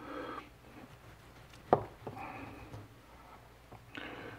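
A knife slices down through a slab of homemade cured and smoked bacon on a board, giving soft scraping strokes and one sharp close knock midway, fairly quiet overall.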